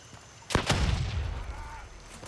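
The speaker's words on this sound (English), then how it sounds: "I get a grenade up and I chuck a grenade up here" A grenade explodes in the shooter Gray Zone Warfare: a sharp, loud double crack followed by a rumbling, decaying tail lasting over a second.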